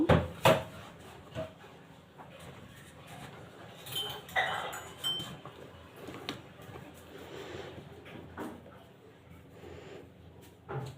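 Nimki dough being cut with a knife on a surface, soft irregular taps and light clinks of the blade, quiet and close, with a few louder knocks at the start and faint talk in the background.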